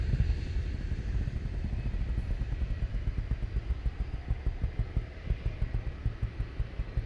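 An EasyJet airliner takes off at foggy Luton Airport, its loud, steady jet roar carrying a rhythmic throbbing pulse that continues without a break.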